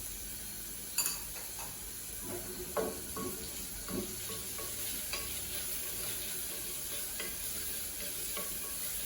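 Ground masala with onion is sautéed in a pan for a vegetable kurma: a steady soft sizzle runs throughout, broken by several sharp spoon scrapes and clinks against the pan.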